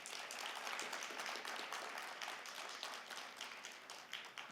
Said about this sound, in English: we should give ourselves a round of applause